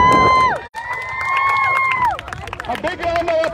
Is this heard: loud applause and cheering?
yes